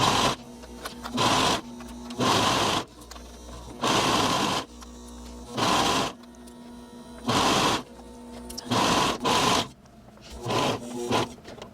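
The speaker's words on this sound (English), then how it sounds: "But I'm going to do it on my cover stitch." A cover stitch sewing machine hemming knit shorts runs in repeated bursts of about a second each, a close steady mechanical whirr with brief pauses between runs.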